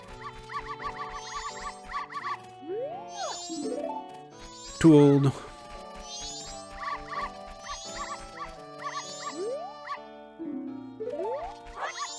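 Dogs at a dog race in Zelda: Majora's Mask give short, synthetic game yips and barks in repeated bursts, alongside chiptune-like tones, with a voice briefly speaking.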